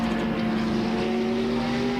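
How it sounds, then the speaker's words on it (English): An SCC race car driving into the pits at a race circuit, a loud steady engine drone with a strong sustained tone, close and without talk. "One of the SCC cars coming into the pits, and it is Diego Romanini"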